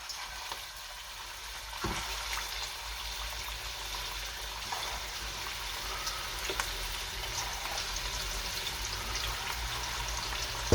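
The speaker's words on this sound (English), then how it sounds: "I put in a pan around half a liter of oil. Make sure it's hot but not too hot. And we go in with the meatballs nicely." Meatballs fry in about half a liter of hot oil in a pan, a steady bright sizzle with occasional pops and crackles, close and continuous without talk.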